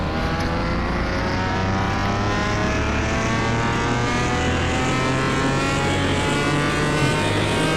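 A powerful supercar engine of about 930 horsepower roars continuously at high revs, loud and close, with a sustained rising pitch.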